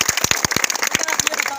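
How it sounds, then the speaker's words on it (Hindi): A crowd applauds a young handball player at an outdoor gathering in Madhepura, Bihar, with dense, rapid, loud clapping throughout. "एक बार ताली बजाओ इस बच्चे के लिए।"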